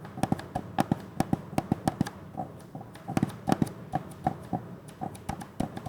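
Small squeaky ticks from the right button of a computer mouse that rubs against the bottom part of the shell as the mouse is moved, coming close and quiet in quick irregular bursts with brief pauses.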